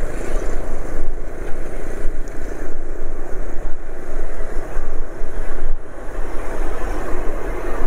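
Loud continuous road roar, Suzuki Ignis tires humming on pavement, louder than the engine of a Honda Beat motorcycle riding alongside, steady and close with rushing wind throughout.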